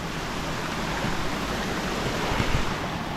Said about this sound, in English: Wow, the wind coming off where that water's just hitting those rocks.